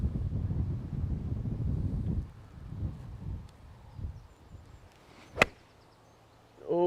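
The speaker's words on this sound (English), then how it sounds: "It's blustery." Blustery wind buffets the microphone on an open golf course, roaring low and heavy for a couple of seconds before easing into quieter gusts, broken by one sharp click near the end.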